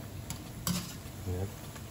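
Soft, steady sizzle of yuca and malanga fritters frying in oil with a light clink of a utensil, close by and quiet, no one speaking.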